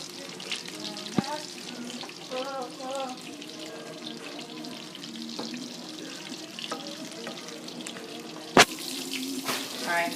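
Shrimp fry in a pan with a steady, close sizzle and crackle, mixed with running water and occasional clinks of utensils, without talking.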